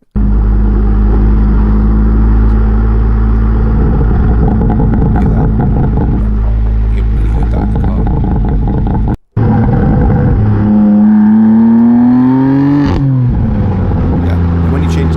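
A BMW F83 M4 engine and exhaust roaring loudly up close in a steady drone, cutting out briefly before a rev swells and falls away. Any crackle or popping is not clearly separate from the roar.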